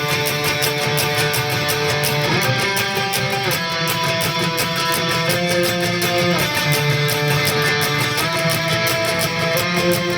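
Electric guitar riff, played as repeated fast palm-muted strikes with chord changes every couple of seconds, loud and continuous with no voice.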